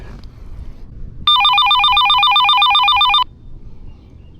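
A Retevis RM21 handheld floating marine radio rings with its call feature: a loud, rapidly warbling electronic two-tone burst lasting about two seconds over faint outdoor background.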